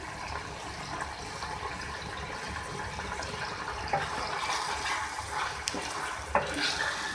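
Chicken liver with green chillies and garam masala cooking in a pan, a quiet continuous sizzle with faint stirring scrapes and a few small clicks near the end.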